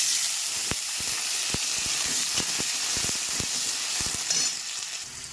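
Potatoes fry in hot oil after a bay leaf and five-spice tempering, giving a close, constant sizzle broken by sharp, irregular pops and crackles, with no talking.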